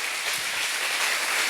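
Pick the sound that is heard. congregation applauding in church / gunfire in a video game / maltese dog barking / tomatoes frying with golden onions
congregation applauding in church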